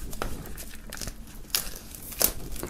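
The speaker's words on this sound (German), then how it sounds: "nachdem das noch eingeschweißt ist, werden wir das Ganze mal aus der Folie holen" Plastic shrink wrap crinkles and tears as it is pulled off a music bundle, with soft rustling throughout and two sharper crackling rips close by.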